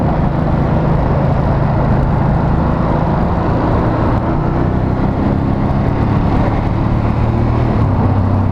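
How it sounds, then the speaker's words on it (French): A Ducati Monster 821 motorcycle on its stock exhaust rumbles loudly and continuously up close, with a deep throbbing engine note that shifts pitch slightly toward the end. "Là c'est l'échappement d'origine hein. Il fait un bruit donc complètement normal."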